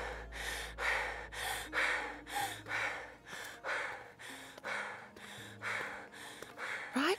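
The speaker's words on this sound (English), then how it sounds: "Try breathing a little more softly" Loud, heavy breathing during a yoga session: deep, regular breaths that rise and fall in a steady rhythm, close up, about eight long exhalations, with a soft tone droning underneath.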